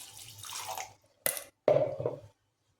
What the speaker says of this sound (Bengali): কাঁঠাল বিচেটাকে কড়ার মধ্যে দিয়ে সামান্য জল দিয়ে দেবো